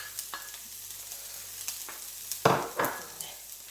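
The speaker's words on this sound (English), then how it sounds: "We're gonna let this saute off for 2 minutes." Plenty of garlic sautés in a pot over a medium flame, with a soft steady sizzle broken by occasional stirring scrapes and a louder burst of frying near the end.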